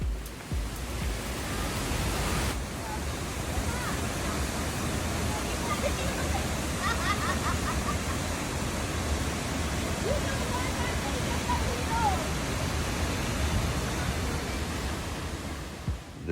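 A waterfall at Faucherie rushes in a steady, broadband roar that stays constant and fairly close throughout, with no speech over it.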